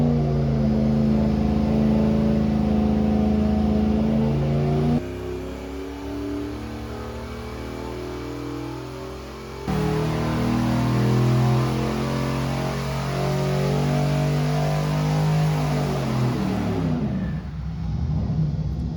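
A turbocharged LS engine with a GTX 3584 RS turbo is revved loudly and repeatedly, its pitch climbing and falling in long sweeps, close-up with no talking.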